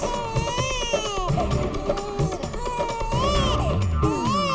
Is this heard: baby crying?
yes